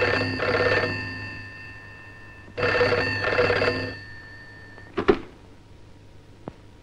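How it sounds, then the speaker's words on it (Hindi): An old telephone bell rings in two bursts, each a double trill, followed by a clatter as the receiver is picked up. "देखो तो किसका फोन है।"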